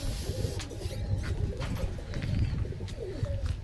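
Pigeons coo in a breeding loft among black-green and other fancy birds, a steady layered murmur of overlapping coos close by, with faint flutters and rustles underneath and no talking.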